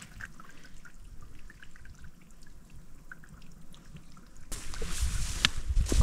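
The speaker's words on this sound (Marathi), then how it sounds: "सध्या वाहत आहे त्यामुळे पाणी आहे ठीकठाक." Water flows and trickles into a large rock-cut water tank at Pabargad fort near Bhandardara. It is a soft, continuous outdoor sound that grows into a louder rush near the end, with no talking.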